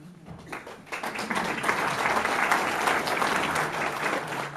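Applause from a crowd at a political candidate event in Hartsville swells after a quiet start into steady, dense clapping that holds to the end.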